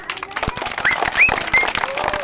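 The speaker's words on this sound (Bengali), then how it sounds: "নেহার জন্য সবাই জোরসে করতালি" Schoolchildren clap for a classmate during a target game, a short burst of scattered, fairly close hand claps with a few high chirps over it.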